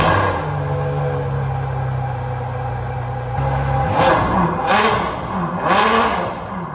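Front-engine Ferrari V12 car idling steadily, then blipped in three sharp, loud revs in close succession, engine note rising and falling with each burst.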